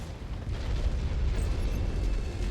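Urbie mech exploding in Mechwarrior 5: a deep, sustained, rumbling blast roar, low and heavy, holding fairly steady for a couple of seconds without voices.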